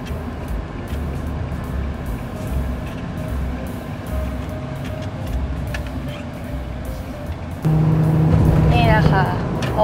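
An old second-hand car drives on a road and overtakes, its engine and road noise a steady, moderately loud drone heard from inside, swelling louder near the end while someone talks over it.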